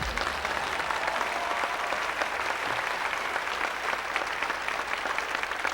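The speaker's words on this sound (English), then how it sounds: "Please give him a great big round of applause." Audience applause at a Las Vegas magic show, a dense, steady wash of clapping from a large crowd that holds at full strength for several seconds without letting up.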